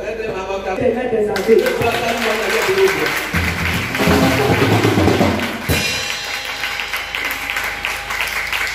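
Church congregation applauding and cheering in a crowded room, with a voice speaking over the clapping for the whole clip.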